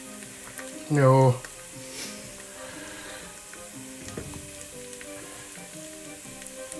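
Tomato puree sizzling in a hot pan for tomato risotto, a continuous close frying crackle with light stirring, and a brief spoken word near the start.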